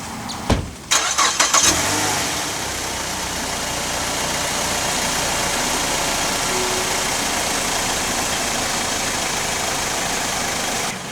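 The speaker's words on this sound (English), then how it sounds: "Alright, so got the car running." A 2013 Mazda6 car engine cranks with a few stuttering turns, catches, then settles into a steady, even idle that runs on for several seconds, close and alone.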